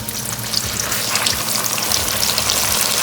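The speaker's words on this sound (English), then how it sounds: "am I the only one that loves the sound of the fish frying and sizzling in the oil?" Fish frying in hot garlic-infused oil, a loud, close, continuous crackling sizzle with dense popping spatters and a few soft stirring bumps, no voices.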